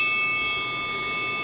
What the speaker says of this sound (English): and then we have a triangle.